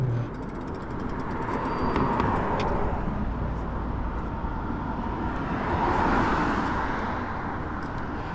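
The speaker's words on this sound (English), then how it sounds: "That was a car coming." A car passes on the road near a stopped e-bike rider, a steady broadband whoosh that swells and fades over several seconds, heard alone with no talk.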